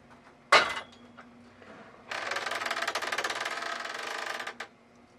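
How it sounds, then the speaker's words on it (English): Quilt being rolled on a quilting frame, a sharp knock followed later by a sustained mechanical rolling rattle lasting over two seconds, then a soft thud as it stops. "go ahead and roll the quilt and get it ready for the next"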